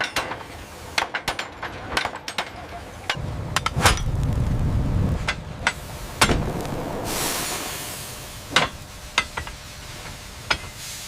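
A hot rivet being hammered home in the Harland & Wolff shipyard building the Titanic: sharp, irregular metallic strikes ring out over a hissing, clattering workshop background.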